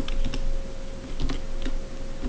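Computer keys clicking in quick, uneven bursts as text is copied and pasted, close and clear with no talking.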